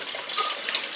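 Water splashes steadily into an aquaponics pond from several splash points, a continuous close, bright wash of falling water with no voices.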